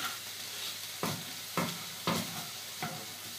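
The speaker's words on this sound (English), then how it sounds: "I've put a bit of oil in the frying pan, you still have to keep turning the chicken" Chicken sizzles steadily in oil in a hot frying pan, broken by four sharp scraping stirs at roughly even intervals, close and clear.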